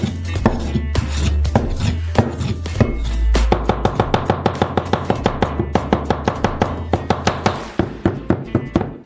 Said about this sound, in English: Pepperoni sausages, crumble as small as cube as possible